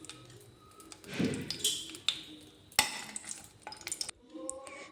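Dried red chillies temper in hot mustard oil in a kadai, giving soft sizzling and frying crackle with a few sharp metallic clinks and stirring scrapes, close and moderately quiet, with no talk.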